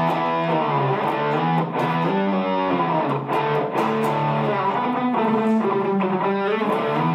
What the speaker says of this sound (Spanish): ahora escuchemos únicamente cómo suena la distorsión con el Noise Suppressor.